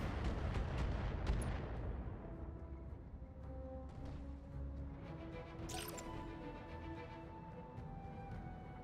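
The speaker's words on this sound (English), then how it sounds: "Even gonna fire the PPC, you know?" A PPC weapon firing in BattleTech, with a burst of heavy booming blasts at the start that rumble and decay into a sustained low roar, followed by scattered sharper impacts and tonal game effects.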